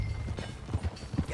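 Horse hooves clip-clop in Red Dead Redemption 2 at a steady riding pace, a close, rhythmic thudding with light clicks over low ambient rumble.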